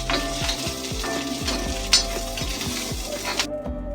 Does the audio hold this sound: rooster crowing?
no